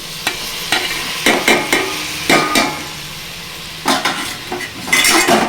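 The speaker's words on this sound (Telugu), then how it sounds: "ఇప్పుడు టమాటా వేసుకోవాలి. టమాటా ముక్కలు వేస్తున్నానండి." Tomato pieces stirred in a frying pan for a bitter gourd tomato curry, a series of scraping, clinking spoon strokes against the pan over a soft sizzle, close and loud with no talk.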